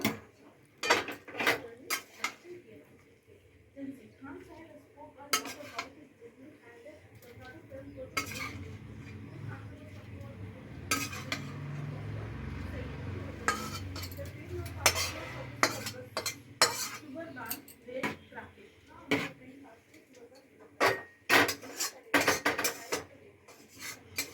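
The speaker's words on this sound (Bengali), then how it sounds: "এবার এর মধ্যে আমি সবজিটা দিয়ে দেবো, একসঙ্গে সব ভালোভাবে সেদ্ধ করে নেব" Vegetables are tipped into a pot of half-cooked rice and lentils for khichuri and stirred with a utensil, giving scattered clinks and scrapes against the metal pot over a soft bubbling simmer, fairly quiet with no talking.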